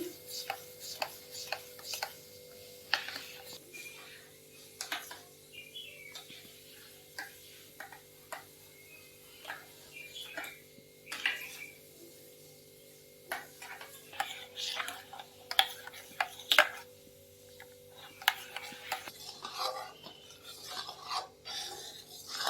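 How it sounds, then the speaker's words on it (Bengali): A spoon repeatedly scrapes and clinks in a bowl while Amul milk is stirred to dissolve, a rhythmic rasping tick that continues for a long stretch in a quiet kitchen. "এটা আমুল দুধটা আলাদা করে একটু গুলে নিচ্ছি"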